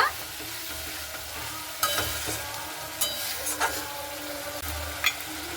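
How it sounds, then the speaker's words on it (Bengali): Tomato being sautéed in masala for a Bengali rui fish curry: a steady pan sizzle with several sharp stirring scrapes, the spatula strokes coming at irregular intervals, close and clear with no voices. "সেই টমেটোটা দিয়ে দিচ্ছি দিয়ে খুব ভালো মতো করে কষে নেব"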